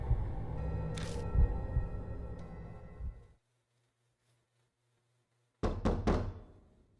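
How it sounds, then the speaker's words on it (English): In the video game Death Mark, a fist pounds on a door with dull heavy thuds, a sustained rumble, then silence, followed by a cluster of three quick knocks fading away. "My fist pound on the door."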